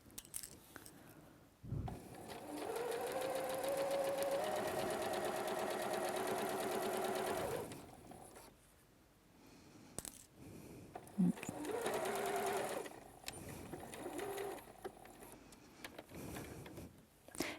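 A sewing machine stitching a flat felled seam runs in two long bursts of steady, whirring mechanical hum, separated by quiet pauses and a few small handling clicks.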